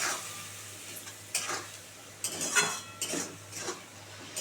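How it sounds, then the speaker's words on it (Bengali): Spice masala for tangra fish curry sautéed with a little water in a pan, heard as soft sizzling with intermittent scraping stirs and a few utensil clinks, fairly quiet and without talk. "অল্প একটু জল দিয়ে ভালো করে কষাবো"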